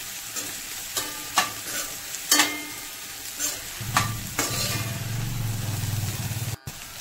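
Potato being stirred and sautéed in a pan for sabudana khichdi, with a spoon scraping and clacking against the pan in several sharp strokes over a soft, steady sizzle of frying oil.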